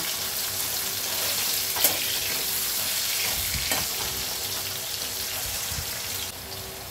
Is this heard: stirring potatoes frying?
yes